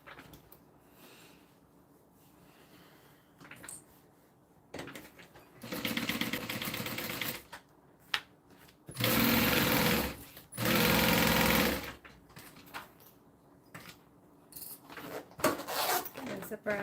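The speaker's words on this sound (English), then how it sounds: "I'll show you what I mean when I sew the other side of the zipper pocket" A sewing machine stitches a zipper pocket in short bursts, its fast mechanical whir starting and stopping several times, loudest in two long runs near the middle, with quiet handling sounds and occasional talk between runs.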